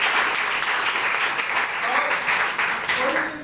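Loud, dense applause from a seated audience at a business seminar fills the whole span, steady clapping without pause.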